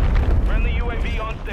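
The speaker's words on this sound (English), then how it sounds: "friendly cruise missile deployed" A cruise missile strike explodes in Modern Warfare 3 during a snipers-only match, a loud, deep rumbling boom that rolls on throughout while a voice talks over it.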